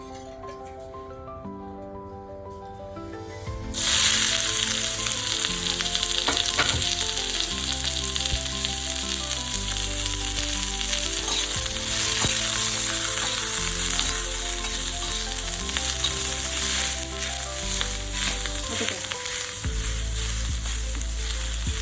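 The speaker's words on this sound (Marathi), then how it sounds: "तोपर्यंत थोडासा मसाला भाजून घेते मी" Quiet steady hum, then a loud, continuous sizzle of spice masala roasting in a pan for an elephant foot yam curry, with occasional stirring scrapes and faint music-like tones underneath.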